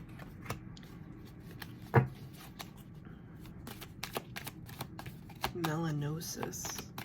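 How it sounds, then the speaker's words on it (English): Tarot cards are shuffled and drawn, with soft riffling, flicks and taps of the deck close by, quiet and intermittent, with a person talking over them. "So I'm going to pull 3 cards, past, present, and future."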